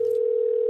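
A steady telephone dial tone hums alone at the start of a prank phone call, one unbroken loud tone cut off abruptly at the end.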